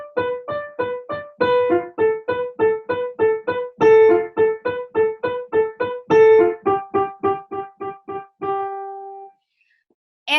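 Solo piano playing the theme of a Bartók Romanian folk jeering song: a brisk run of short, evenly spaced detached notes, close and clear, with a few held tones near the end before silence.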